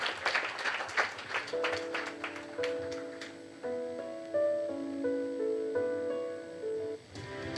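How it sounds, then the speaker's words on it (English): A conference audience gives a round of applause to its panelists at a circular economy conference. The clapping is brisk and scattered at first, then thins out as a sustained musical tone rises and carries on over the last few claps. "A big round of applause once again for them."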